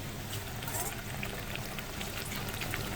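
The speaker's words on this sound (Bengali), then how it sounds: "কাঁচামরিচ আর টমেটো দিয়ে দিচ্ছি, সুন্দর করে ভুনা করব।" Green chilies and tomatoes fry in a hot pan for a spiced bhuna, giving a dense, steady, loud hiss and crackle throughout, with a voice talking over it.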